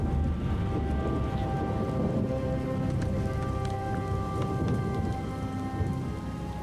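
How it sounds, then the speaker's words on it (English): Steady heavy rain with rolling thunder during a rainstorm in the World of Warcraft Dragonflight video game, a dense continuous downpour with low rumbling throughout, no talking. "The storm is receding."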